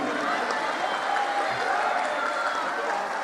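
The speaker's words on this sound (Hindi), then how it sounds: "इनके लिए एक बार तालियां।" A crowd at a devotional gathering with a spiritual guru in Dubai applauds, producing a continuous wash of clapping that stays fairly level throughout, with a voice faintly present beneath it.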